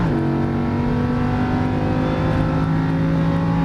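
A Lamborghini Huracan race car drives on a track with a loud, continuous engine note that holds steady and climbs slightly in pitch, with a droning, close in-car tone and no talk.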